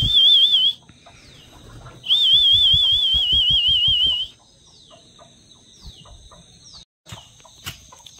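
Village hens in a Konkan yard cluck in quick, soft bursts under a loud warbling whistle that comes and goes, with scattered faint chirps in between.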